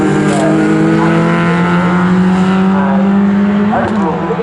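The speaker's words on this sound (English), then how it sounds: "Those being Sterling Parker and Morgan Short in the Roll Sector Racing prepared Rover 216 GTI." Rover 216 GTI race cars, prepared for MG Cup racing, roar past at Snetterton circuit with loud, sustained engine drone and shifting revs throughout, a commentator's voice running over the noise.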